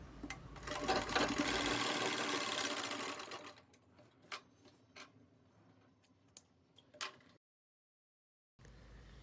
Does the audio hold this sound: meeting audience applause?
no